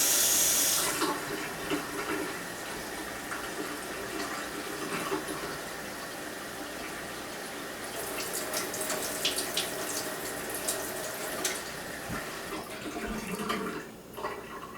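Tap water running steadily over a spoon at a sink, a continuous close splashing rush that grows busier midway, with no speech.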